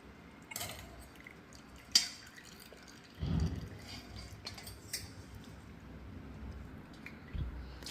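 Dissolved jaggery syrup strains through a filter, giving sparse, quiet drips and a few small splashes, with one fuller gush partway through and no talk.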